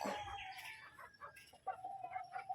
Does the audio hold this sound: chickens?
yes